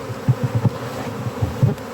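Honey bee swarm buzzing during a swarm catch, being boxed and lidded, a steady low insect drone with soft pulsing swells, close and alone with no talk.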